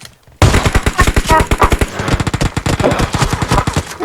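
Rapid automatic gunfire in the PUBG Mobile shooter game, starting abruptly after a brief quiet moment and continuing as fast, loud, close bursts of shots with short gaps between them.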